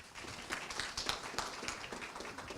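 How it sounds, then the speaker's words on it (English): A seminar audience claps for a speaker being welcomed to the stage, a soft, fairly distant patter of many hands that swells briefly near the middle and then holds steady. "Give him a round of applause."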